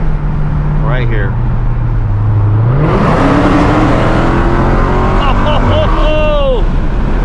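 At a drag strip, a 2020 Dodge Challenger Hellcat Redeye engine idles low, then surges into a loud, close acceleration with rising pitch and shifts, a high supercharger whine layered on top, voices talking under the roar.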